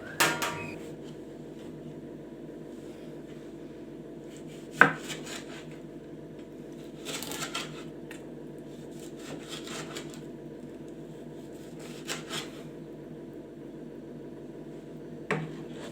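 A knife chopping tomatoes for kachumbari at home, sparse scattered cuts on a board with a few sharper knocks spread across a quiet kitchen, no talking.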